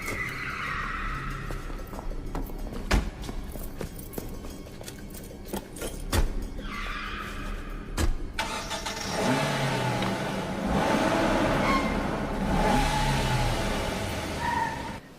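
A car in an action movie, with several sharp clicks and thumps before the engine catches and then revs in a loud sustained roar with rising and falling pitch, no talking.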